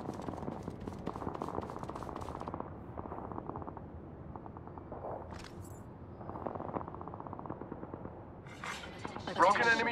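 Gunfire in Apex Legends plays as rapid bursts of automatic shots in repeated clusters, fairly faint and mixed with game sounds, ending in a louder flurry of hits.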